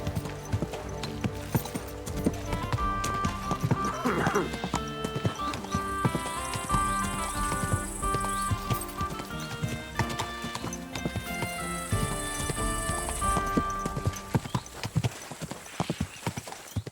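A horse in Kingdom Come Deliverance 2 clip-clops along in a steady galloping rhythm of hoofbeats, with a neigh partway through, set against background game music and ambience.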